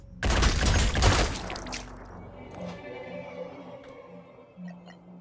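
A dense burst of weapon fire in Phoenix Point rips out loud for about a second and a half, then gives way to a quieter low hum and faint tonal blips.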